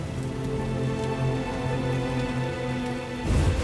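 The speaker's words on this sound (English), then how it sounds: "Still raining." Steady rain patters down across a Witcher game world, a dense even hiss of drops that runs throughout with a slight swell near the end.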